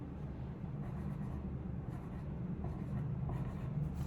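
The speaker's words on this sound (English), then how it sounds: "Can you go ahead and write that down?" Pencil scratching steadily across paper during a spelling exercise, a faint, continuous close-up rubbing with no talk.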